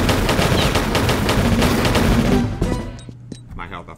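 Rapid gunfire in the Tomb Raider Level Editor game: loud, dense bursts of automatic shots rattling steadily for about two and a half seconds, then cutting off into a quieter stretch with a few faint clicks.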